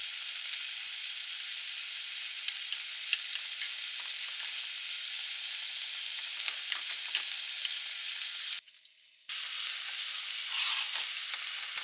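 An egg fries in a pan over low heat, giving a steady, soft high sizzle that continues throughout with occasional faint crackles and no talk.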